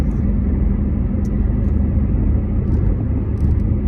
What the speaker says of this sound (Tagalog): yung stick pala na ginamit namin nakapasok siya sa hood ng kotse kaya ang ingay